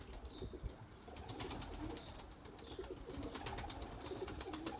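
Limoni breeding pigeons in their loft, soft low cooing repeating at a faint, distant level with scattered light rustles and a few brief flutters.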